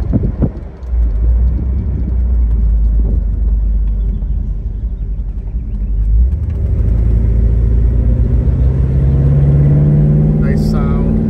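A 1957 Cadillac Series 62 convertible resto-mod with an LS2 V8 runs at idle, a steady deep rumble that swells slightly toward the end, with voices talking over it.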